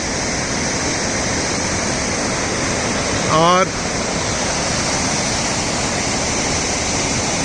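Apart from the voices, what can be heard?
Kali river flowing at confluence with Gori Ganga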